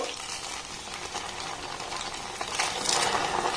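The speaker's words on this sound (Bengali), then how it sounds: "আমি এখানে কিন্তু কম কম দিয়ে ভেজে নেব একটা কিংবা দুটো দিয়ে আস্তে আস্তে ভেজে নেব" Raw potato snacks frying slowly in a small amount of oil, one or two pieces at a time: a soft, continuous bubbling sizzle at moderate level that grows slightly louder toward the end.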